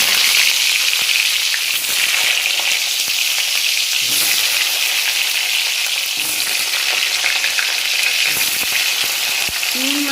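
Pointed gourd (potol) pieces, salted and without turmeric, frying in oil in a home kitchen, a loud continuous crackling sizzle with occasional stirring clatter and no talking.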